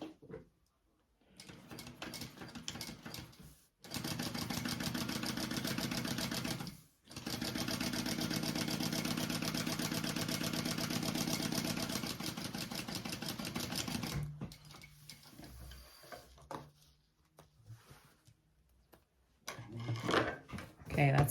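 A sewing machine top-stitching fabric runs in long steady bursts, a rapid even whirring hum that stops and restarts with short pauses between stretches, close and clear.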